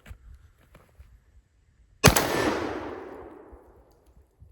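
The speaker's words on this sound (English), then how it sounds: "We'll shoot the modern shell first and then the vintage shell" A single loud shotgun blast fired with an all-plastic shell, a sharp crack followed by a long rolling echo that fades over about two seconds.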